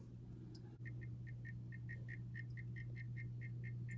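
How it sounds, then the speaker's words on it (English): A mature pet turtle croaks in a quick run of about a dozen short, evenly spaced chirping calls, fairly close and clear over a steady low hum. "He croaks now that he's mature."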